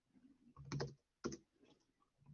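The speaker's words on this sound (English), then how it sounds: "What am I typing code for?" Keystrokes on a computer keyboard while typing code, quiet and close, in two short bursts of clustered clicks separated by a brief pause.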